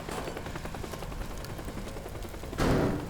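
Gunfire in Teardown, a rapid series of sharp, loud reports over background rumble, ending with a bigger blast near the close.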